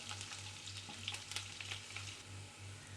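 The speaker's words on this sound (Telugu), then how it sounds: "వేసేసుకొని ఉల్లిపాయలు కూడా వేసేసుకోవాలి. వేసేసుకొని బ్రౌన్గా వచ్చే వరకు ఫ్రై చేసుకుందాము" Onions sizzling in a pan with cinnamon and cardamom for a capsicum tomato curry, a steady loud frying hiss with occasional stirring scrapes and a low hum underneath, no talking.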